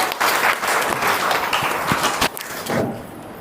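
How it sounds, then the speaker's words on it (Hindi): An audience applauds loudly at a Raksha Bandhan festival gathering in the Om Shanti Bhavan hall, Krishna Vihar, Mathura Refinery Nagar. Dense clapping lasts about two seconds, then tapers off into scattered claps. "जोरदार तालियों से अभिनंदन करते हैं।"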